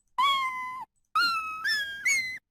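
Two sped-up cartoon cat meows from a Scratch sound effect, high and quick, the second one breaking into a three-part wavering cry, with silence in between.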